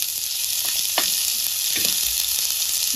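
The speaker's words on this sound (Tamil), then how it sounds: "வரமிளகாயை போட்டு வதக்கிறேன்" Dried red chillies sauté in a pan, giving a bright, steady hiss of hot oil with a few soft stirring knocks and scrapes, close and loud, with no speech.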